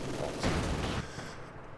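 Heavy machine gun fire in the strategy game Company of Heroes 2 comes as a dense, rumbling burst of rapid shots that rises sharply partway through and then fades, with battlefield noise around it.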